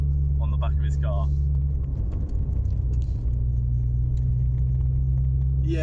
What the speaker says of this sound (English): you have to rev it so hard, and it's like we're at 40 on the speedo. It's like it can't get up these hills.